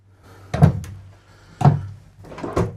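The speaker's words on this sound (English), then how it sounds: "Full extension drawer glides" Three separate slides and thunks of a full extension drawer on glides in an RV bathroom, each a short rolling sweep ending in a soft knock, spaced about a second apart in a quiet room.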